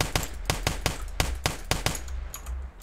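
Rapid gunfire from a Roblox video game gun system: about a dozen sharp, evenly spaced shots in quick succession, loud and close, with no talking.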